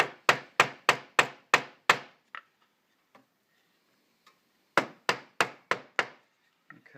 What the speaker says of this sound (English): going to start by trying to just chisel into it at an angle, okay? So I'm going to tap in, get it started